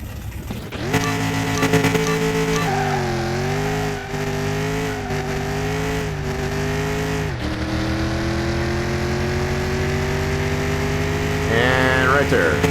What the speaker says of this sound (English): So let's try this Rustin Mod 57 Bel Air Cruiser. It's got that modern V8 supercharged.